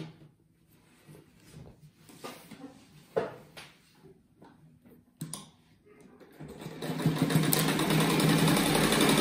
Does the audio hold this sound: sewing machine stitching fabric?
yes